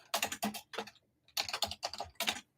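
Rapid typing on a computer keyboard, close and clear, in several bursts of dense clicking separated by short pauses, with no voices over it.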